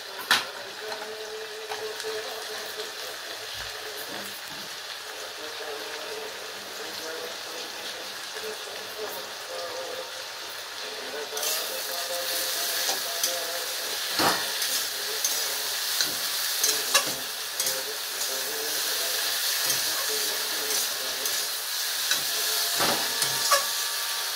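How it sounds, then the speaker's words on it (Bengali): Prawn heads frying in a hot pan for a kochur lati chochchori: a moderate hiss that grows louder and busier about halfway through, dotted with occasional utensil taps and clatters. "আমি চিংড়ি মাছের মাথাগুলো দিয়ে দিচ্ছি"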